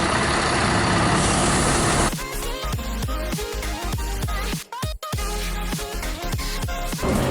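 A city bus pulls in at a stop on a Melbourne route, its engine loud and close with a steady rumble, then a sharp hiss of air brakes releasing near the middle before the idling resumes.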